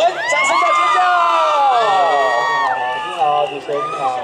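A crowd at a Lunar New Year street market on Taichung's Yizhong Street greets a pop singer with loud, sustained high-pitched screaming and cheering from many voices, close and dense, dipping slightly toward the end.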